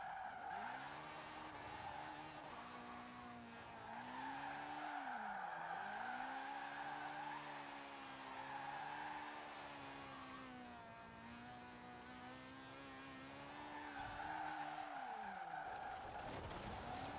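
A 400 horsepower drift car slides through Forza Horizon 4, its engine wailing in long rising and falling sweeps while tires squeal and skid steadily underneath, fairly faint and free of talk.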